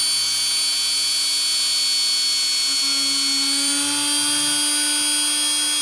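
A small electric drill whines steadily at high pitch while slowly boring a hole into a smooth doll head for an art doll craft, continuous and close with a faint low hum beneath.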